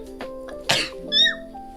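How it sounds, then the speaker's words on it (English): A single sharp sneeze bursts out close to the microphone, followed by a short high squeaky vocal sound, over a faint steady hum. "a sneeze."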